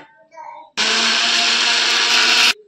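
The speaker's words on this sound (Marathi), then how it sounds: "कांदा व टोमॅटोची ग्रेव्ही अशी बारीक करून घेतली आहे मिक्सर मधून" A mixer grinder whirs loud and steady for about two seconds while blending onion and tomato into a smooth gravy for a mutton curry, cutting off abruptly, with faint voices murmuring just before it starts.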